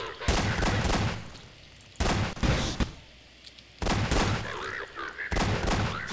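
Heavy bursts of launcher fire from a stinger missile launcher in the video game Garry's Mod, four loud broadband blasts each lasting over a second with noisy rumbling tails and short quieter gaps between them.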